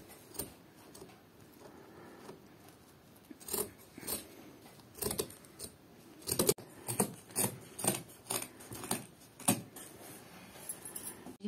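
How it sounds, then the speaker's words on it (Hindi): Scissors snip through dress fabric to trim away excess cloth, making a series of crisp, rhythmic cuts close by that grow more frequent toward the end, with no one talking. "ये बाकी कपड़ा काट देना है।"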